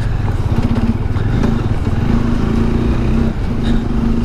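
A Bajaj Dominar motorcycle labours along a rough, broken off-road stretch of mountain road, its engine droning steadily and close with rattling clatter from the bumpy surface and no talk.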